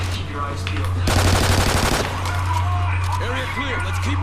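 Automatic gunfire from a weapon in the video game Call of Duty: Ghosts Extinction, a dense rapid burst lasting about a second amid game sounds, with voices talking over it.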